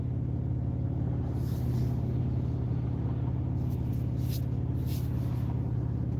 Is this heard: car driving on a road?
yes